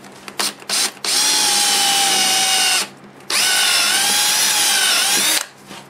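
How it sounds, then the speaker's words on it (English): A power drill boring a 5/16-inch hole in a wood worm screw for lathe mounting: two loud sustained whining bursts separated by a short pause, preceded by brief trigger blips, close up with no talk. "Worm screw needs a 5/16 hole drilled in it."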